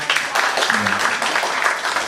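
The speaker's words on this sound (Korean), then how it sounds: "우리 청년부 우리 선배들에게 환영의 박수를 해서 환영합니다" A Korean church congregation claps to welcome the youth group at a joint Sunday worship service, dense steady applause throughout with a voice faintly speaking over it.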